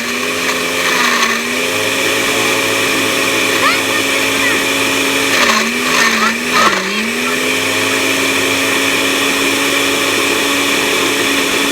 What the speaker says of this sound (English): I think our blender farted.